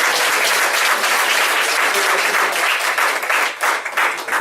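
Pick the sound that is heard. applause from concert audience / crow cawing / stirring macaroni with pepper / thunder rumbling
applause from concert audience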